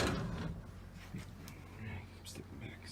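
Deep drawers in the bedroom of a 2000 Newmar Dutch Star motorhome sliding open and shut, soft thuds and brief rolling scrapes heard close but quiet, with someone talking over them.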